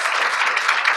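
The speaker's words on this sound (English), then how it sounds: "we should have a round of applause" Dense, steady audience applause at a medical lecture on precision medicine and gene therapy, a continuous wash of many hands clapping at even loudness for the full second.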